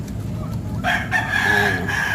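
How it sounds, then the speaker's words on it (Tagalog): A Peruvian broodcock rooster crows once, a clear, fairly close call lasting about a second over a soft background hum. "Ito yung Peruvian natin, broodcock ng idol."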